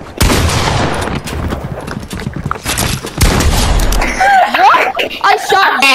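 Loud gunfire bursts in quick succession, close and harsh, followed by a sharp boom, with a voice speaking over part of it.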